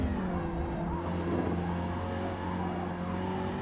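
A Mazda MX5 on the Nurburgring drifting wide, its engine droning loud and steady with tyre scrub and a harmonic whine throughout, no voices.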